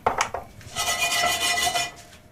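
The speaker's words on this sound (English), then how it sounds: "in this pan, I just want to toast a teaspoon of cumin seeds" Cumin seeds tossed and toasting in a dry pan make a scraping, rattling sound of seeds and metal. A few sharp knocks come first, then a dense, continuous scrape that fades near the end.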